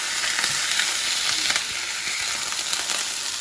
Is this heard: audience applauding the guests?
no